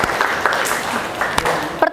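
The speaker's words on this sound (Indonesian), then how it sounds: "Oke, tepuk tangan buat Alif" Classroom applause from a group of students, a steady broadband patter of many hands clapping at moderate loudness throughout, with faint voices mixed underneath.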